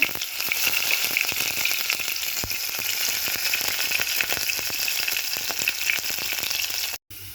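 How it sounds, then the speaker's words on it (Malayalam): Mustard seeds, curry leaves and dried red chillies fry in hot oil for a Kerala Vishu sadya tempering. A loud, close, continuous sizzle is dotted with crackling pops, then cuts off abruptly near the end. "എണ്ണ ഒഴിച്ചു കൊടുത്ത് അതിലോട്ട് കടുക് ഇട്ട് കൊടുത്തിട്ടുണ്ട്"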